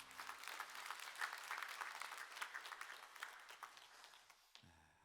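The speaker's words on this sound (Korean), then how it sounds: "하나님께 영광의 박수를 돌리겠습니다" Applause from a church congregation during a worship service, a steady wash of many hands clapping that fills the space and then cuts off near the end as a voice starts.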